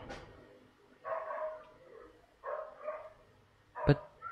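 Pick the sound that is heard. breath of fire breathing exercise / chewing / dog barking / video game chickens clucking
dog barking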